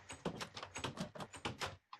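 Minecraft doors sound off in a rapid series of about a dozen short wooden clacks and thuds, close and fairly quiet, in an uneven rhythm.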